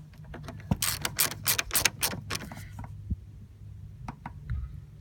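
Car battery terminal clamp tightened with a hand tool, close metallic clicks and ratcheting taps in a quick burst, then a few sparser ticks, with no speech.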